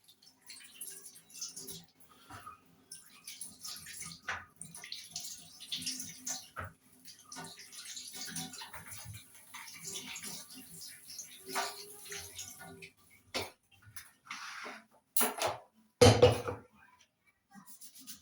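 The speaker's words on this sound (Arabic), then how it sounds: "هاخد كام طماطمايه كده بقى اغسلهم" A few tomatoes are washed under a running kitchen tap, with intermittent splashing and trickling water and light knocks against the sink, broken by pauses and soft handling sounds.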